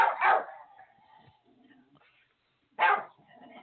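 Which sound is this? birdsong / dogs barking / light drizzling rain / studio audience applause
dogs barking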